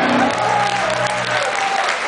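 A metal concert crowd cheers and applauds for a band member, a loud continuous wash of noise with a brief tonal shout over it.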